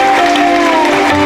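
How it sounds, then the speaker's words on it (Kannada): Loud, dense audience applause fills a public puja committee's name-board inauguration, brief and sustained with a crowd murmur and a tonal hum beneath. "ಒಮ್ಮೆ ಜೋರಾದ ಚಪ್ಪಾಳೆ ಬರಲಿ"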